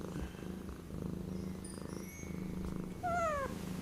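A domestic cat purrs close and soft in a steady, continuous low rumble, with a few thin, high whistling tones near the end.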